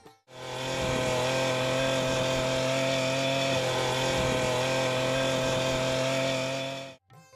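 A petrol weed cutter, also called a brush cutter, runs at steady high revs for the whole stretch. The engine drone is loud and close, with no speech.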